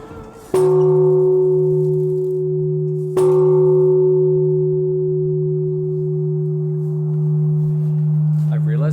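A Japanese temple bell is struck twice, each strike a clear metallic clang followed by a long, humming sustained tone that slowly fades.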